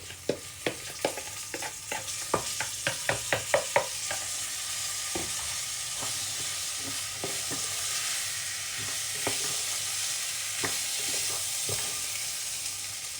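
Rice fries in a pan with a steady sizzle while a utensil scrapes and stirs it, first in a quick run of rhythmic strokes, then in scattered single scrapes, close and clear with no talking.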